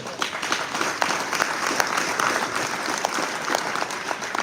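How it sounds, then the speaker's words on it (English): Crowd at a city State of the City address breaks into steady applause, a few seconds of dense hand clapping with some sharper individual claps standing out near the front. "So give that a round of applause"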